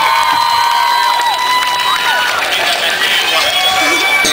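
A street crowd at a busking show in Parc Paragon breaks into loud, sustained applause and cheering, with whoops and voices mixed into the dense, nearby clamour.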